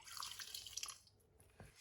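Leafy greens being rinsed in water to wash off soil, running water and splashing in a sink, soft and close, easing briefly before a small splash.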